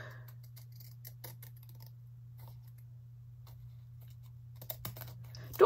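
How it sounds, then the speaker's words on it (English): Scissors snipping through fabric lace for a handmade junk journal card, a few faint quiet clicks over a low steady hum, with a louder sharper cut at the very end. "next we get our scissors and chop it off"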